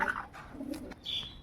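A pigeon coos softly a few times at close range, low and throaty, over a faint background.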